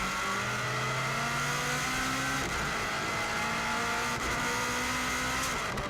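A rally car runs flat out on the Isle of Man course, its engine roaring loud and continuous from onboard as the revs climb and shift through gears, with no talk.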